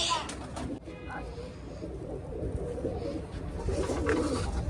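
Pigeons, including a female, coo softly in the background while people talk nearby, with a steady low murmur throughout.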